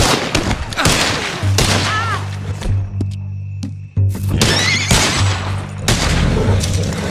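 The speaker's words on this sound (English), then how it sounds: "I hope local law enforcement wasn't worried about all that gunfire." Rapid bursts of gunfire in the Red Dead Redemption 2 video game, loud and dense shots and booms clustering through most of the stretch, with a brief lull midway and a steady low in-game drone beneath.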